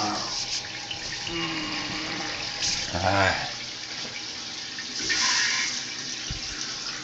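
An old sink faucet, part of a dated fixture, opens and water runs steadily at moderate volume with a few brief gushing surges, while a voice speaks briefly nearby.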